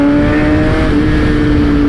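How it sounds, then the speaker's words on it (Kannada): A Kawasaki ZX-10R motorcycle engine revs hard in winter, a loud, close, sustained roar with a strong steady tone that shifts slightly in pitch, running continuously without pause. "ಕಿರ್ಚಾಡುತ್ತೆ ಗುರು ಗಾಡಿ ಇದು"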